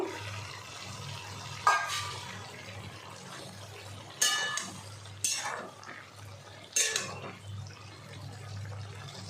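Pieces of fish go into a simmering bottle gourd greens curry in a pan, giving four soft, separate splashes and plops over a steady low kitchen hum.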